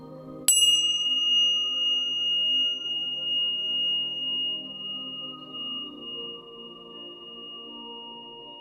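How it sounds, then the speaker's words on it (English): A single bright bell strike rings out, its clear tone lingering and slowly fading over several seconds against a soft low hum. "try to drift away with the sound of the bells"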